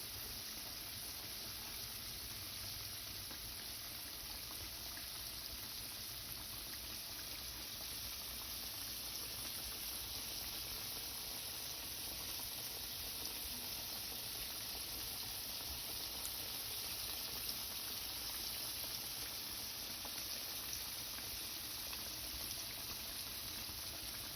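Steady, even hiss and crackle of chicken frying in hot oil, continuous and unchanging throughout, with no voices.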